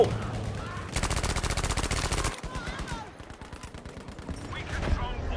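Thompson M1928A1 submachine gun firing in Battlefield V, a loud rapid automatic burst of about a second and a half followed by scattered shots and battle noise, with players talking over it.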